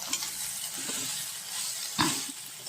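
Onions frying in a pan for a custard bean (cluster bean) fry: a steady close sizzle with a few soft stirring scrapes and one louder clack near the middle.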